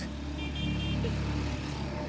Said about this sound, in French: là on est en train de slalomer entre les voitures parce que c'est aussi une ville qui bouillonne